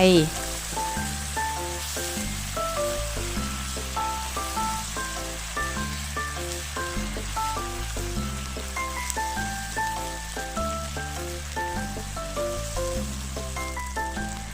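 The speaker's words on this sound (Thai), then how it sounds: "คั่วพริกแกงจนหอมดีแล้วก็ใส่น้ำล้างโคกลงไป" Thai curry paste sizzles in a pan after water used to rinse the mortar is poured in. A steady hiss runs throughout beneath louder rhythmic background music.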